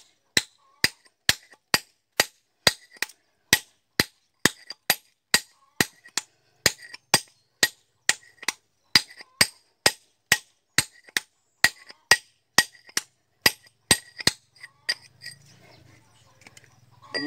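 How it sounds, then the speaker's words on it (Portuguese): A stone cutter strikes hard stone with a hammer, sharp ringing blows landing in a steady rhythm about twice a second, close and clear, before the strikes stop and a faint low hum remains. "A vida do cortador de pedra."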